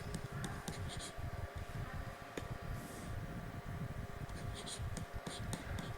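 Handwriting: pen or pencil strokes scratch across paper while an equation is written out, close and continuous with short clustered scribbles and a faint background hum.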